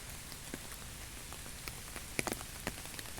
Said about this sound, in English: the rain is still tipping down here